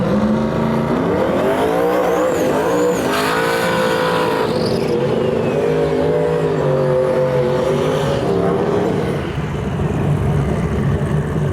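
Hemi Fox drag car at Gainesville Raceway, a loud, close, raw engine roar that climbs steadily in pitch through the gears for most of the run before dropping away near the end.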